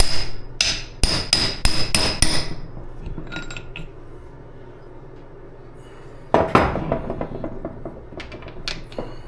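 Sharp metallic hammer strikes on a punch against a Cummins PT fuel pump part, a quick burst of ringing whacks, a pause, then another series of lighter taps, close and clear.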